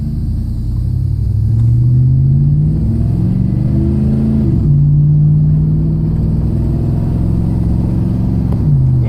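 A 2006 GMC Sierra pickup on 35-inch tires with a 4L60E automatic transmission and fitted Corvette servo pulls away at quarter throttle, its engine droning low and loud from inside the cab, rising in pitch through gear changes.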